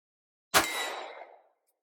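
A single rifle shot from a rifle fitted with a SwampFox Sentinel scope cracks once, sharp and sudden, then rings and fades over about a second in otherwise quiet surroundings.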